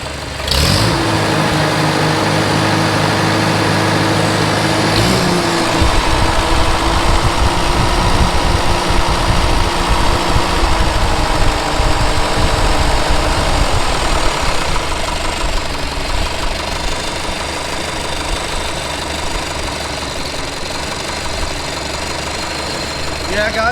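A Super C tractor engine idling steadily after an oil pump repair, a continuous loud mechanical rumble with slight knocking texture, with a voice speaking over it near the start.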